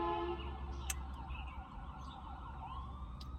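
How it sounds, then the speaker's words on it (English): Several emergency vehicle sirens, an ambulance and a fire truck among them, wail together in layered rising and falling tones. They sound at moderate distance over steady low traffic rumble, with a couple of sharp bursts. "I'm pretty sure I heard a fire truck."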